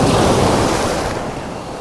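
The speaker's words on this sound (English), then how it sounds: "this is a big wave" A big ocean wave breaks on an Australian shore with a loud, broadband roaring wash that slowly fades as it settles, with no voices.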